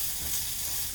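Red peppers frying in a hot pan with other vegetables, a dense, steady close sizzle with no talk.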